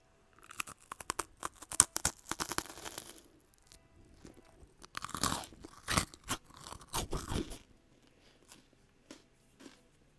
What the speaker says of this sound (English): Your packet of chips are more crunchy.